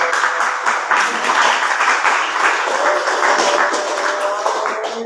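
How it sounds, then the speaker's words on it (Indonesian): An audience at a youth discussion for Nahdlatul Ulama cadres in Indonesia breaks into steady, dense applause. The clapping holds at an even, fairly loud level throughout, with a faint tone running beneath it. "tepuk tangan dong"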